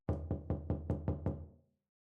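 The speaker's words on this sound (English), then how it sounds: "Someone was pounding on the door." Someone pounds hard on a door in a quick series of seven heavy, evenly spaced thuds. The blows are loud and close and die away into silence.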